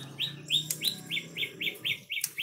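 A songbird, a pastol kept for song training, repeats a quick rising chirp about nine times in an even rhythm, close and clear over faint background noise.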